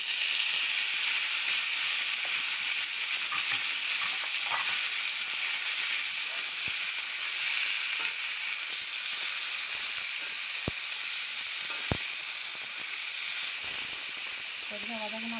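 Chopped tomato and onion sauté in a hot pan for a vegetable masala, giving a constant loud sizzle and hiss that runs unbroken. A few faint clinks come from a stirring utensil.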